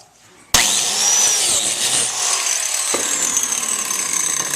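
A power saw starts abruptly and cuts a slot into a wooden end table leg with a steady, loud whine that holds for several seconds, with brief knocks as the wood shifts.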